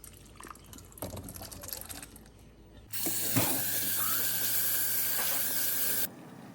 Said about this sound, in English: next you're just going to rinse and drain 1 can of corn and 1 can